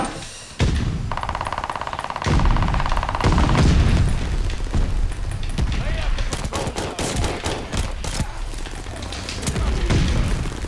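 Pistol gunfire in a video game, a series of sharp, loud shots and booms in irregular bursts, with a brief electronic tone early on and explosion-like thumps between shots.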